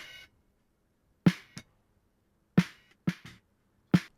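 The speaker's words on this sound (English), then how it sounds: "So the snare sounds like this." A gritty, crunchy lo-fi processed snare drum hits a handful of times in an uneven pattern, each crack short and dry with silence between.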